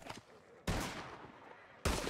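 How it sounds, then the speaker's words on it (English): Gunfire in the video game Red Dead Redemption 2, two loud abrupt shots with sustained noisy tails roughly a second apart, following faint softer sounds. "Two more shots."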